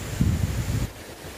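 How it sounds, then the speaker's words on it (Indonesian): A strong gust of wind roars on a mountain trail on Gunung Salak, loud and close across the microphone, then drops off abruptly into quieter air. "Namun tiba-tiba angin juga bisa berhembus lumayan kencang seperti ini."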